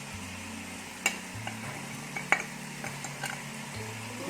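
A spice mix hits a hot pan for a green bean and potato curry, and it sizzles steadily. A few sharp clinks of a spoon against the pan cut through, with no voices.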